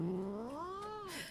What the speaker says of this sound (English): this is the sound of my grumpy cat